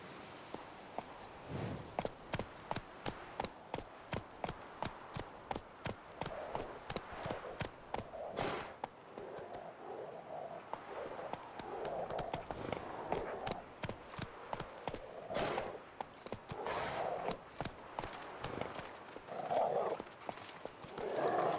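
Roach the horse moves in The Witcher 3 with a steady, regular beat of hooves close by, and soft whinnying and snorting rise briefly toward the end.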